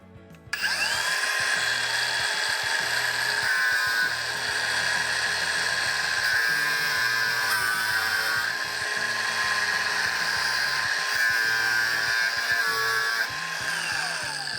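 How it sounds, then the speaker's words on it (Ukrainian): A cordless Procraft angle grinder with an extended, slimmed gearhead whines steadily at high speed, running continuously and loud with no talking. "Тепер болгарка із подовженим та стонченим редуктором"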